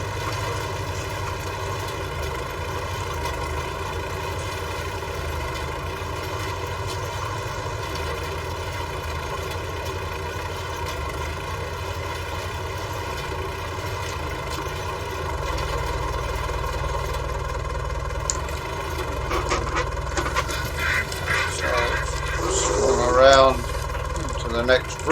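A steady, close tractor engine drones while pulling a seed drill through a field sowing winter wheat, with a constant mid-pitched hum and extra clanking and rattling toward the end.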